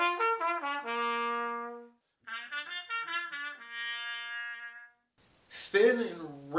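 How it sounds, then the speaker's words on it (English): Trumpet fitted with a harmon mute plays a short phrase of thin, raspy sustained notes and quick runs, with clear pauses between the lines, close and solo without other instruments. "how the harmon mute makes this trumpet sound"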